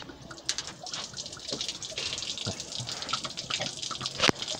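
Coolant water drains from a disconnected reservoir hose on a boxy VW Gol with a carburetor. It makes a steady, close splashing trickle with scattered drips throughout.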